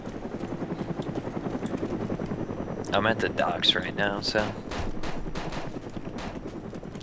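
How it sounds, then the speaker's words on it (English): Rapid bursts of gunfire mixed with a helicopter's rotor thrum in the game DayZ, half-buried under steady game background noise, while a person talks over it. "It's a helicopter shooting."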